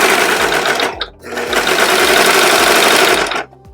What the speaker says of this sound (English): So I'm going to stitch straight down this side